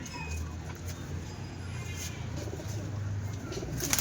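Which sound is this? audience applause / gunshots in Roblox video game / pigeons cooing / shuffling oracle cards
pigeons cooing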